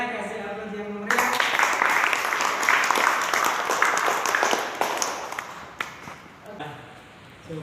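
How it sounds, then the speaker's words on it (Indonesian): An audience bursts into loud, dense applause at an Islamic religious talk, sustained for about five seconds before tapering off, with a speaker's voice just before it begins and again as it fades. "kasih aplaus yang meriah"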